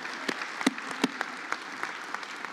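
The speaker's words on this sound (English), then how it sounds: "So if you could just give our middle school and high school volunteers a round of applause" Church congregation applauding middle and high school volunteers during a Sunday service, scattered sharp claps with a few louder close hand strikes standing out over a soft background.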